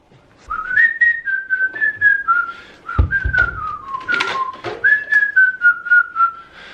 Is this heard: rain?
no